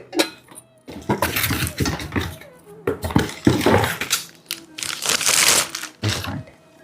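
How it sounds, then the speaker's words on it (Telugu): A stainless steel pressure cooker set of two cookers sharing one lid being picked up and handled, with metallic clanks and rattles in close bursts separated by brief pauses. "స్టెయిన్లెస్ స్టీల్ కుక్కర్ తీసుకున్నాం అనమాట అండి ఇది సెట్"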